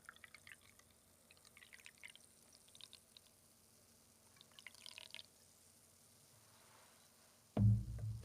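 Red ale beer poured into a glass, faint liquid trickles and drips with fizzing bursts, ending in a sudden louder thump near the end.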